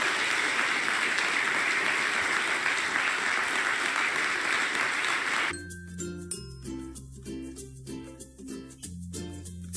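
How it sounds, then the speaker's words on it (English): Audience applause closing a public lecture on the Fukushima nuclear accident, a sustained wash of clapping that cuts off abruptly midway, giving way to tonal music. "Malkin one last round of applause?"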